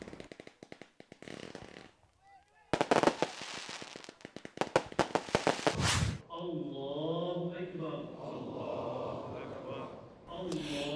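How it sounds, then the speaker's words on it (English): Traditional cannon firing in Kampung Talang, Malaysia: a run of sharp bangs and crackling blasts, some in quick bursts, followed by people talking. "the cannon firing traditions remains a significant part of Kampung Talang identity"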